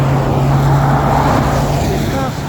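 Road traffic near Kenmore on a bike ride around Lake Washington makes a steady, close, broadband roar of passing vehicles that fills the whole clip.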